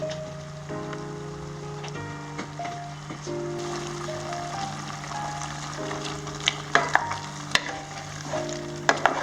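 Prawn curry with turmeric sizzles steadily in a pan while a utensil stirs and scrapes, with a few sharp clinks of metal toward the end.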